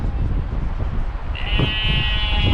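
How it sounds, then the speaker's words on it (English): Sheep bleat loudly and close by on a Welsh hillside, with one sustained bleat standing out over steady wind noise. "the sheep keep interrupting me"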